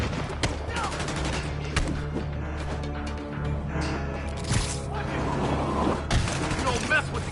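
Rapid gunfire from Kingpin's henchmen crackles in a Spider-Man video game, with bursts of shots and impacts layered under shouted in-game voices and busy combat effects.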